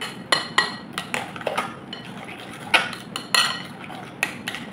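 Flour being mixed by hand in a bowl for a sesame date bread, with scattered clinks and scrapes of a utensil against the bowl at an uneven pace, close up with no talking.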